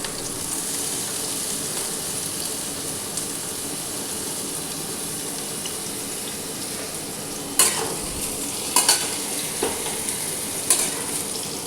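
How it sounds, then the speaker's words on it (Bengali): Eggplant pieces sizzle and fry steadily in a pan throughout, a dense crackling hiss, with several sharp scraping clatters of stirring near the end. "বেগুনগুলো হালকা ভাজবো,"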